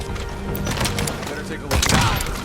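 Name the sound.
gunfire in a video game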